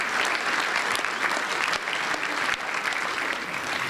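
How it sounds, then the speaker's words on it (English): Dense, sustained applause fills a room at a Rotary presidents-elect training seminar, honoring members over 60, steady and full throughout with no voices on top. "A round of applause for the over 60 crowd"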